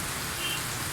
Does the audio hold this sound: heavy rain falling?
yes